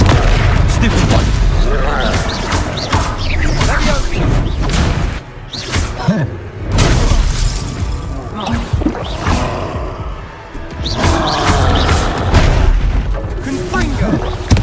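Confringo spell explosions go off in Hogwarts Legacy, a loud battle din of repeated booms and blasts with crashing impacts, broken by a brief lull and mixed with shouted voices.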